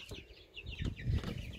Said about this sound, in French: Poussinette, c'est un coq